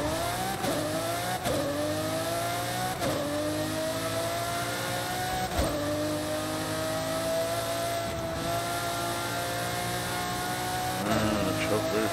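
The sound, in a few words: 1997 Lamborghini Diablo SV engine, Forza Horizon 5 video game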